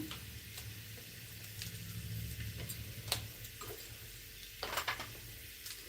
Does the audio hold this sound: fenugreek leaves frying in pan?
yes